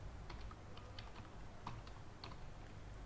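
Keys on a computer keyboard are tapped at an uneven pace while the word horticulture is typed, a quiet run of soft clicks with no talking.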